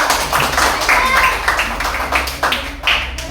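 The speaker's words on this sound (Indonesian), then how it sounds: "kasih tepuk tangan Bapak Anggrek yang meriah" An audience at a Kemenag teacher-training (PPG) session claps, a steady patter of many hands with sharp taps mixed with voices and room noise.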